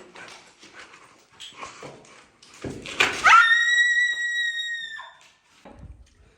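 A high, drawn-out scream with a strained harmonic tone, roughly two seconds long, rising out of scuffling and indistinct voices nearby and ending abruptly, with low thumps afterwards.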